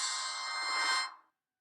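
A phone rings with a short bright electronic ringtone lasting about a second, then cuts off into silence.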